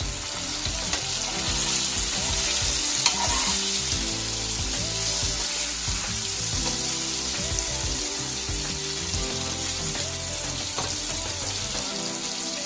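Stuffed okra masala fries in a pan with a steady, loud sizzle, joined by occasional scrapes as it is stirred and turned, continuous and close with no talking.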